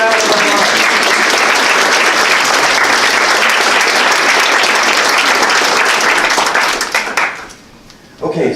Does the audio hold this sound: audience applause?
yes